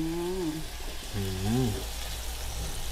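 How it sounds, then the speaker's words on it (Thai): Hard Chinese kale stems stir-fry in a hot pan with pork, a steady sizzle running throughout while someone speaks over it in short phrases. "อันนี้ใส่ก้านลงไปผัดก่อน เอาก้านตัวแข็งนะครับผัดเอาลงไปก่อนนะ"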